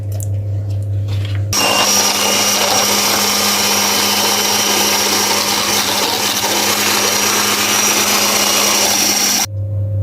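Electric hand mixer whipping whipped-cream powder with milk, switching on abruptly and running at a steady loud whir for about eight seconds before cutting off.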